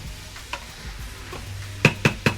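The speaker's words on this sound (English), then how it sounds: "So we're gonna stir that up a little bit. Get the garlic in there," Garlic searing in a Power Pressure Cooker XL pot on sear mode while being stirred: a faint sizzle and low hum, then three sharp, evenly spaced utensil taps against the pot near the end.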